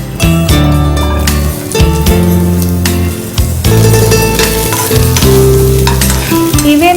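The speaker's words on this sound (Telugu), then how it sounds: "ఇందులో ఇంకొద్దిగా ఆయిల్ వేసి ఉల్లిపాయ కూడా వేపేయాలి." Onions frying in oil for Telugu-style chicken chukka, a loud continuous sizzle with frequent stirring scrapes and clatter of the utensil against the pan, close and dominant throughout.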